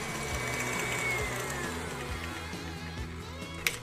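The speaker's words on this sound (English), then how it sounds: "Go ahead and whisk your cream until you get very, very heavy, stiff peaks" Electric mixer whipping heavy cream toward stiff peaks, a steady mechanical whir with a rhythmic pulsing motor tone that stays moderately close, ending in a short clack.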